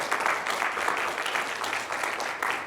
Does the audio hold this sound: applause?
yes